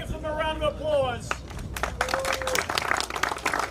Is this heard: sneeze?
no